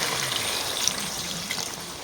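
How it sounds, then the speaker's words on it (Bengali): Water pours steadily into a pot of chicken and potato curry, a continuous close, loud splashing trickle with no talking. "যেহেতু আমি ঝোল করব, তো সেখানে জল দিয়ে দিলাম"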